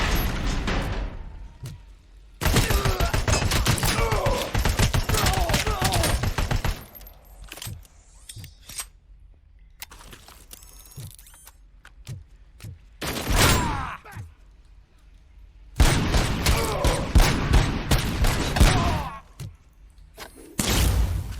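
AK-74 rifle gunfire in the shooter RoboCop: Rogue City during the ED-209 boss fight, loud sustained bursts of automatic fire in several long stretches separated by quiet gaps and isolated impacts.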